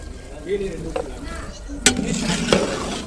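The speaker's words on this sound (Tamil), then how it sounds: "மட்டன் சேர்த்துட்டு நல்லா வந்து கிண்டி விட்டுக்கலாம் மட்டன் வந்து நல்லா வதங்கணும்" Mutton fries in masala as a soft sizzle under scraping stirring, with two sharp metallic knocks of a spoon against the pot; faint voice or kitchen noise sits in the background.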